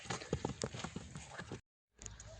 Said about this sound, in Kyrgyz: ат да чыгып жатат